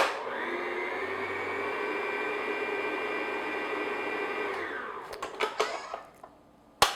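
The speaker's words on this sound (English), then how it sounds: "So I'm just going to mix this on low speed, just get everything mixed together." An electric mixer runs on low speed through dry cupcake ingredients with a steady, close whirring drone for about five seconds. It then cuts off, leaving a few light clinks and knocks.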